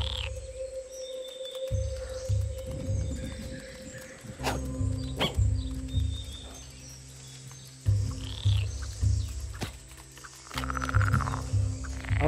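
A frog croaks in the video game Away, several low, throaty calls in uneven bursts over a faint ambient background.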